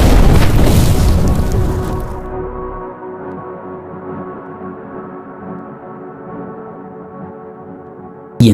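A grenade explosion sound effect: a loud, booming blast at the start that rolls into a long, rumbling decay with a low, resonant tail lasting several seconds, close and dominant with no talking.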